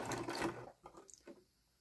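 A sewing machine stitching a top for a beginner, running in a steady dense burst for about half a second, then trailing off into a few short, softer stitch runs close by.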